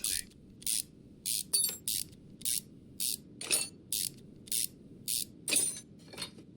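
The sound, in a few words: ratchet unscrewing bolts in video game Car Mechanic Simulator 2021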